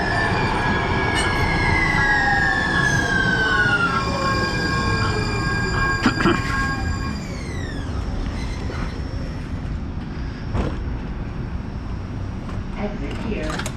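A southbound Green Line light-rail train in downtown Salt Lake City passes close by, wheels squealing loudly along the rails with sliding high-pitched tones before fading into rumbling track noise.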